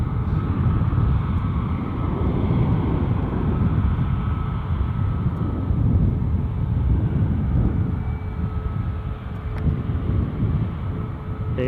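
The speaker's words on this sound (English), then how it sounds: "confirming Ryanair are also on finals with a incoming flight from Shannon" Ryanair airliner on final approach to Edinburgh Airport, a steady broad roar of distant jet engines with wind noise, continuous and fairly loud throughout.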